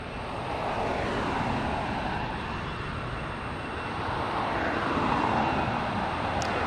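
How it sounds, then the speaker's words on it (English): An airliner taking off at LAX, with a continuous broad engine roar that holds steady and swells slightly across the whole stretch, heard at a distance without voices. "There it is, clear for takeoff."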